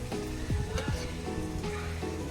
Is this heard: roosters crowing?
no